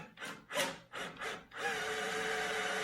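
A drill bit boring through a stack of wood and aluminum: several rasping bursts of the bit grinding into the material, then a steady, sustained cutting whir, close and loud with no voices.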